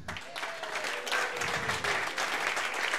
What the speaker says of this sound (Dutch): Dames en heren, een hartelijk applaus voor Guy Smeets.